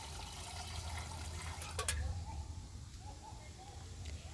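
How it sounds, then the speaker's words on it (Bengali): Water is poured into a cooking pot set on a stove for vegetarian khichuri, giving a soft continuous splash and trickle, with a brief sharper clatter partway through and low background hum, no talking. "এবারে পরিমাণ মতো আমি জল দিয়ে দেব।"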